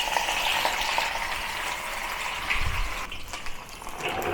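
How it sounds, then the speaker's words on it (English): Fish sizzling in moderately hot oil in a non-stick pan or wok, a continuous steady hiss and crackle, close and fairly loud with no talk. "And pan fry the fish"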